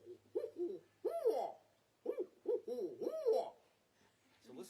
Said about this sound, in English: you might hear the call of a spotted owl.